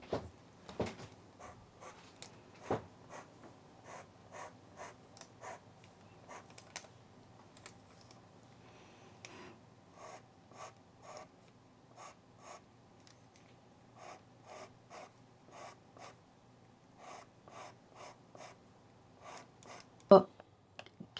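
A pastel pencil scratches lightly on paper under almost no pressure, making short, crisp strokes in irregular bursts up close. The strokes carry on for about twenty seconds with quiet breathing in the background.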